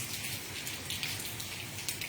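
Steady light rain patters on a surface outdoors in Matagog, a soft continuous hiss with scattered drop hits and no talking.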